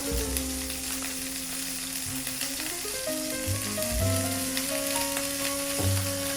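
Meat browning in heated oil in a pan gives a steady, close sizzle throughout, with background music playing over it.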